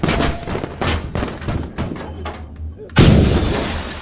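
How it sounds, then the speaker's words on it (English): A vehicle blowing up in a first-person shooter video game: a run of loud close crackling gunfire and impacts ending in a sudden heavy explosion blast that rumbles and fades. "We just T-boned one of their lodges and blew it up."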